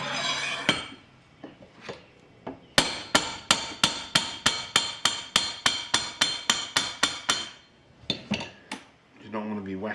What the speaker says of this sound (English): I now use a hammer which has been specially prepared